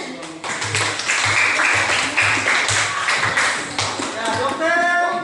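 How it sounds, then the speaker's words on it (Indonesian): A class of students applauds together, a burst of clapping lasting a few seconds, near and fairly loud with some voices mixed in. "Oke, kita berikan aplaus dulu."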